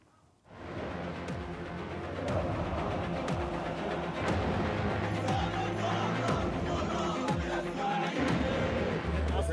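Football supporters of Al Ahly and Ismaily fill a stadium before the match with a loud, continuous crowd roar and chanting, heard at a distance and sustained throughout after a brief quieter start.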